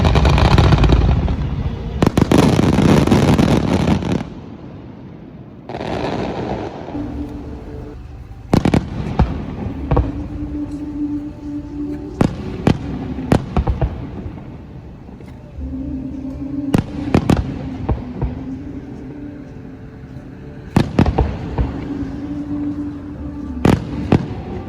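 Fireworks bursting at an Obon festival in Obihiro, Hokkaido: a steady barrage of loud booms and sharp cracking reports, some rolling and overlapping, with no voices.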